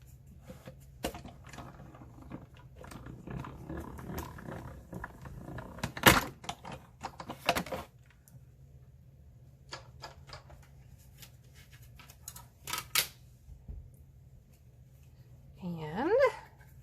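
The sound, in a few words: hand-cranked die-cutting machine pressing a 3D embossing folder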